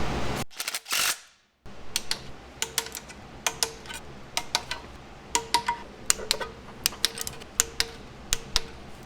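Bolts on the front cover of a 134ci Willys Jeep Hurricane engine being torqued. A short hiss and a pause are followed by many sharp, close metallic clicks from a torque wrench, which come in irregular clusters.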